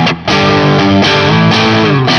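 A Telecaster electric guitar played through two stacked distortion pedals, giving a heavy, high-gain tone: thick, sustained distorted chords ring out loud and close, with a brief dip near the start and fresh strums every half second or so.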